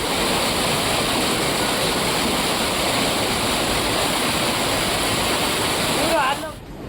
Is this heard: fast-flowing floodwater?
yes